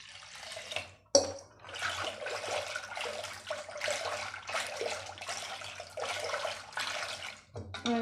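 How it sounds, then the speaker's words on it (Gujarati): Water splashes steadily into a cooking pot while dal and masala dosa batter are being prepared in a home kitchen, a continuous close rush with a brief clatter near the start. "પાણી નાખશું."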